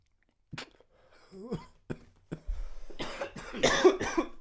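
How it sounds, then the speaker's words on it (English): A person coughs repeatedly in rough, uneven bursts, close to the microphone, with a few throat-clearing sounds between the coughs. "Cough it out."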